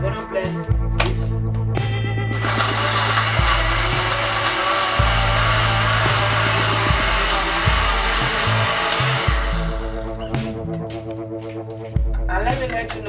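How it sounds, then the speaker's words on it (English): A blender whirring through bitter leaf soup ingredients, loud and close, cutting in and out in several bursts of harsh high-pitched grinding before one long continuous run, with a voice speaking briefly between pulses. "So right now we're going to blend this."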